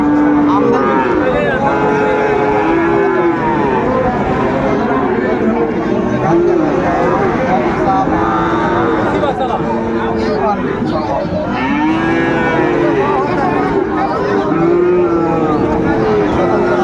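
Friesian and cross-breed bull calves at a busy cattle market in Dinajpur, repeated loud moos and bellows from several animals over dense crowd chatter and bargaining voices throughout.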